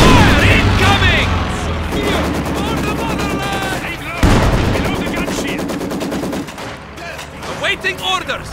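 Company of Heroes 2 battle with dense machine-gun bursts, rattling rifle fire and a heavy impact midway, continuous and loud with in-game voices shouting over the gunfire.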